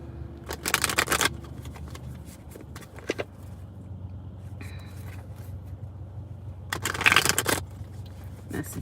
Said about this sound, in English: I'm going to go ahead and pull the cards